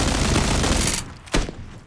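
Rapid automatic gunfire from a hacker's gun in the video game PUBG, a dense, loud fusillade of shots lasting about a second that stops abruptly, with a lone louder shot or impact shortly after.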